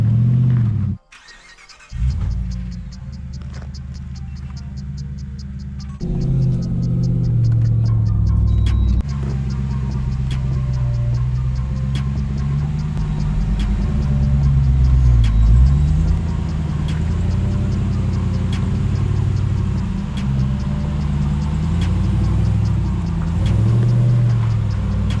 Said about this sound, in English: Just got to give it a little gas to get up there.